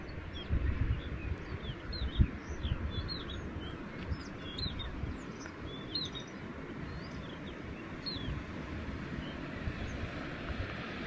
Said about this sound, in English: listening to all the different sounds of the birds and the ocean